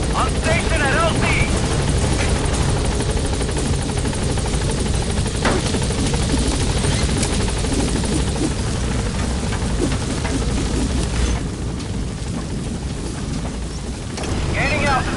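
The Pequod helicopter in Metal Gear Solid V arrives at a landing zone, its loud, close rotor roar and wind rush filling the whole stretch steadily, with a voice talking over it.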